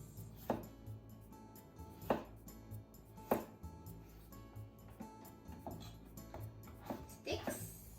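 A knife chops food into slices on a board for chicken curry pies, sharp distinct strikes at irregular intervals, close and clear against a quiet background.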